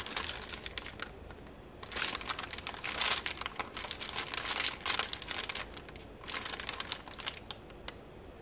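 Plastic Ziploc bag being handled and crinkled up close during household decluttering, several bursts of crisp crackling separated by quieter pauses, with no voices.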